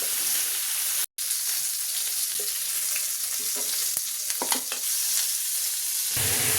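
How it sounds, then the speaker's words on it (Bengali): Chicken pieces for butter chicken fry in a pan with a steady close sizzle and occasional clicks and scrapes as they are turned, broken by a brief dropout near the start. "এভাবে আমি উল্টে উল্টে একটু ভেজে নিচ্ছি।"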